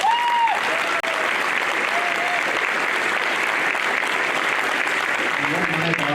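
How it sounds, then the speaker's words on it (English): Sustained applause from a graduation ceremony audience fills the room at steady loudness, a dense continuous patter of many hands with faint crowd noise beneath. "so give yourselves a round of applause"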